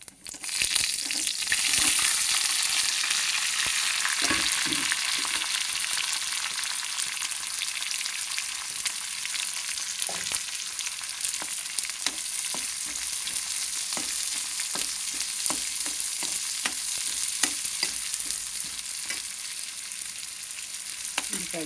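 Onions frying with cumin in a pan: a continuous loud sizzle throughout, broken by frequent scraping stirs and clicks of a spoon against the pan, no one speaking.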